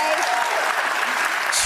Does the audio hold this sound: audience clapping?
yes